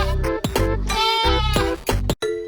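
A cartoon goat bleats as a story sound effect, giving several loud, wavering cries in quick succession with short gaps between them.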